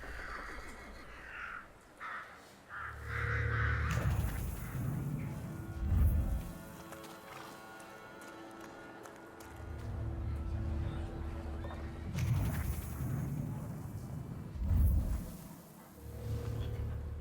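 Horse neighs and whinnies sound in a dark adventure RPG, the Thaumaturge, rising several times over a steady game soundscape with background music, with no clear galloping beat.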